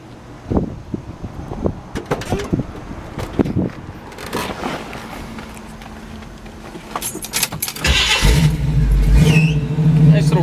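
A 1969 Chevrolet Camaro V8 engine with dual exhaust cranks and catches around the eight-second mark, settling into a steady low rumble after some clicks and knocks. A few quiet voices speak earlier.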